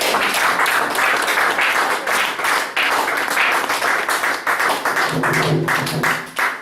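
A church congregation applauding in acclamation of the Lord, loud crowded clapping with uneven rhythmic bursts, and a low hum of voices rising near the end.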